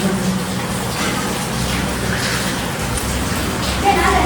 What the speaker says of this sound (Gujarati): વરસાદ બરાબર ચાલુ છે